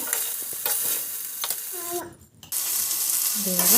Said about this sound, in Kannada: ಈಗ ಅದನ್ನು ಎಣ್ಣೆಯಲ್ಲಿ ಸ್ವಲ್ಪ ಒಂದು ಐದು ನಿಮಿಷದ ತನಕ ಹುರ್ಕೊಳ್ಳೋಣ